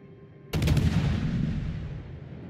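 A sudden heavy naval gun blast in a warship video game erupts after near-silence, a loud, booming burst that rolls on into a long fading rumble, with no talk over it.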